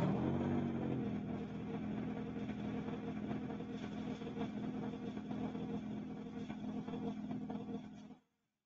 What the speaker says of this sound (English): Let's let the engine run here.